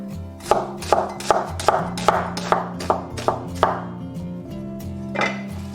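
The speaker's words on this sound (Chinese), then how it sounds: "接下来准备一个洗净的洋葱切丝" A knife chops a washed onion into strips on a board, about a dozen evenly spaced crisp cuts ringing out close up, then a pause and one last stroke over a steady background tone.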